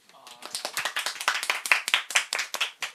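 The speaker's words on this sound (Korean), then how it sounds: "열화와 같은 예 박수를 받고" A small group of people clap their hands together, a close, fairly brisk burst of rapid claps that lasts a few seconds and then tapers off.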